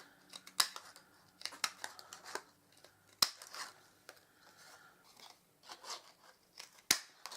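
Scissors snip through red glitter paper at a craft table, a series of crisp, close cuts in an irregular rhythm with a few sharp, louder snips standing out against a quiet background.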